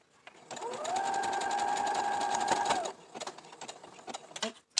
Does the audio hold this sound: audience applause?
no